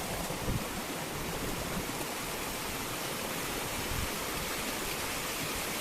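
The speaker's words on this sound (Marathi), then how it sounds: "केवढा मोठा धबधबा पडतोय" A rain-swollen village waterfall roars with a dense, continuous rush, steady and enveloping, with no voices.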